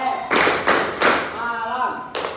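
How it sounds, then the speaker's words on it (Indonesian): Classroom students clap their hands together in a few loud, sharp bursts, each group of claps landing close and separated by brief pauses, with a voice talking over the rhythm. "Harus ikut tepuk tangan semuanya."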